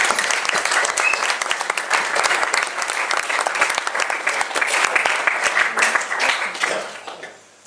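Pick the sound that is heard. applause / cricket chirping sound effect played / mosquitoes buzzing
applause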